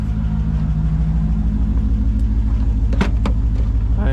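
A Mercedes C55 AMG with its M113 engine, fitted with a new lightweight battery, idles loud and close with a deep, steady rumble, a couple of sharp clicks near the end and no talking.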